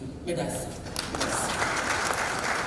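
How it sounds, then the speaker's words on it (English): Audience at a university investiture ceremony claps for a new vice-chancellor, the applause building after a brief lead-in and holding as a broad, even patter while a voice carries over it. "Are you clapping for the Nana Chancellor for me?"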